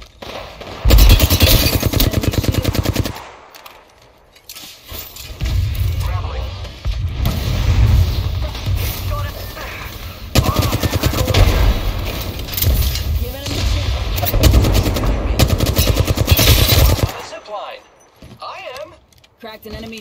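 Gunfire and impacts during an Apex Legends video game fight, with loud bursts and thumping shots coming in several waves and short gaps between them. A voice calls out over the combat.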